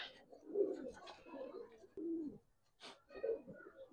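Giribaz pigeons coo at a pigeon market, a few soft, low, rolling coos repeated in short phrases, close by and faint, with little else around.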